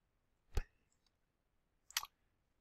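Two sharp computer mouse clicks about a second and a half apart, close and quiet against a near-silent background, as chapter links in an ebook are clicked.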